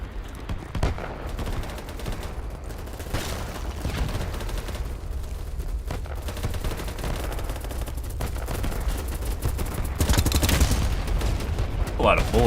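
Rapid automatic gunfire in a video game, long dense bursts of shots hammering on through the stretch, loud and close, swelling near the end, with a voice speaking briefly under it.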